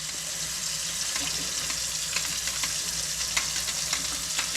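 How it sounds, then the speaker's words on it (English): Cleaning foam suds fizz and crackle steadily on a bathroom exhaust vent, a dense close-up hiss with small pops throughout and no talking. "Just letting the suds break loose"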